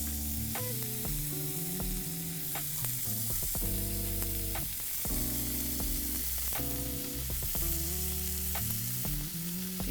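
Steady, crackling sizzle of onigiri frying in a hot pan, continuous and close, with faint scraping and clinks from a utensil.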